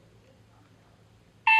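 A Snugspot smart WiFi door lock gives a single short electronic beep at the very end after near silence as the deadbolt is locked.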